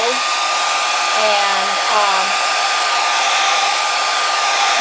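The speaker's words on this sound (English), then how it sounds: "Easiest way is to really put your blower on low" Hair dryer set on low blowing steadily over a collage made on freezer paper, a continuous even whoosh that holds for the whole stretch, with a brief word of talk over it.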